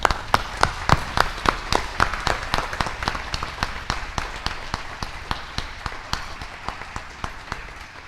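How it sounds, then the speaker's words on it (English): A modest round of applause at a community board meeting, with a few people clapping in distinct, fairly even rhythmic beats that hold steady and slowly taper off. "Please give them a big round of applause."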